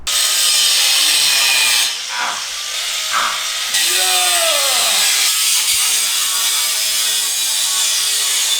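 A power saw cuts through the sheet-metal body of a Mustang GT with a loud, steady, high grinding whine that dips briefly, while a voice talks over it in the middle.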